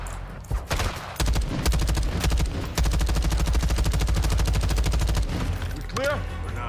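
Rapid automatic gunfire in a video game, dense sustained bursts of heavy rounds filling most of the stretch with a brief pause, loud and close, ending with a short voice.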